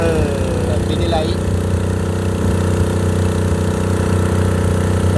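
A boat engine runs steadily at close range, a loud, continuous mid-pitched drone with a constant rhythm. Brief higher sounds rise over it early on.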